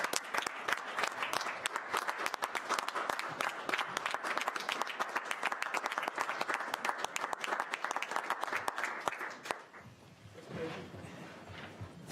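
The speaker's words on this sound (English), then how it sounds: "we need to send him off with a grand clapping" Warm applause from a town council chamber for a departing council member, brisk steady clapping from a modest group that stops abruptly, leaving quiet room tone with faint murmuring.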